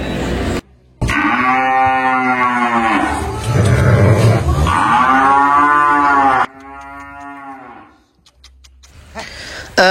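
Cattle at a cattle market moo loudly and close by, with several long, drawn-out calls that overlap, then a short pause and a quieter final call.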